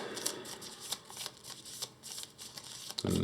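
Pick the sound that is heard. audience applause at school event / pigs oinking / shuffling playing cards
shuffling playing cards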